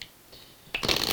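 Tarot cards being shuffled, a soft rustle at first that swells into a brisk, close riffling flutter near the end, with no voices.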